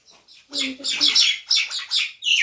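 Small bird chirping indoors, a rapid series of high, close tweets in short bursts, with faint talk briefly underneath.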